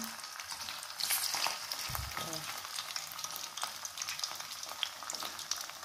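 Pindang carangka fish sizzling and frying in hot oil in a pan, a steady crackling sizzle with a brief stirring clatter, no talk.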